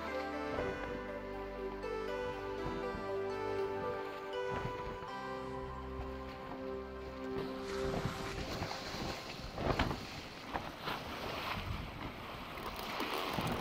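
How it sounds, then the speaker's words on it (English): Wind and creaking rigging aboard a sailing cog in the Sailwind game as the jib luffs, heard as a steady whooshing wash over rhythmic flapping, with water swishing and a busier, noisier rustle building in the second half. "The jib's luffing now, which means the wind is basically falling off."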